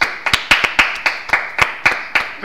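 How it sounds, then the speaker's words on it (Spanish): Clapping at a quiz-style contest, sharp distinct hand claps in a quick, uneven rhythm, close and fairly loud, sounding like a small group rather than a big crowd. "El aplauso al público"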